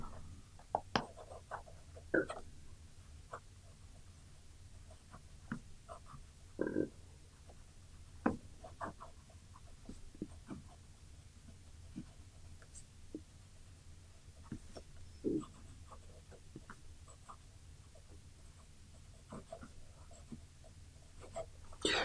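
A Kaco Edge fountain pen made of Makrolon, inked with black ink, scratches across paper in short strokes and taps, with soft pauses between words, close and quiet with no talking.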